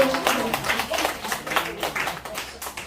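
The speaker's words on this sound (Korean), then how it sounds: "와, 박수" A small audience claps after a poetry recitation at a poetry-writing class, a brief burst of scattered, uneven hand claps that tapers off within a few seconds.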